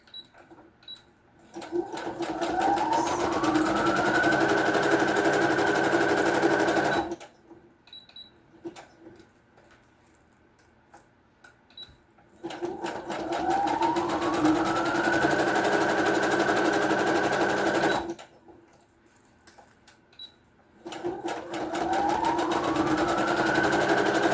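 A sewing machine stitching fabric in three long steady runs, each a loud whirring hum that rises in pitch as it speeds up, separated by quiet pauses with faint clicks.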